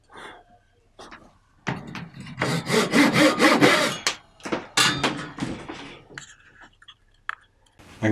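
Hand saw cutting through wood for a middle lap joint, a run of loud, rapid rasping strokes close by after a few short preliminary strokes, then stopping and resuming with scattered taps and scrapes.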